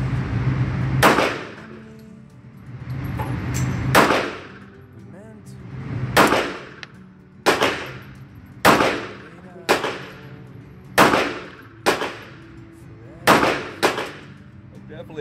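Jericho 941 .45 ACP pistol fired at a shooting range: about ten sharp, loud reports, spaced roughly a second or two apart, each ringing out with a short echo.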